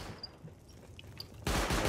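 Gunfire in the video game Rust starts with faint scattered shots, then a loud, rapid automatic burst breaks in near the end.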